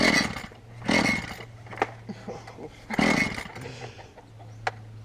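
A Makita chainsaw is pull-started outdoors by a tree: two rough, loud bursts a couple of seconds apart as the engine coughs without catching, followed by quieter rattling and a low steady hum.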